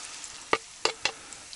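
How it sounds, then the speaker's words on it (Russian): Onions frying in a new pan at a campsite: a faint, steady background sizzle broken by three sharp clicks or stirs close by, with no talking. "Поставим зажарочку, ребятки. Лука много не бывает."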